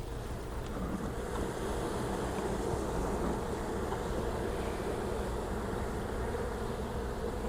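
A steady, low buzzing drone of bees hums continuously at moderate volume, with no voices.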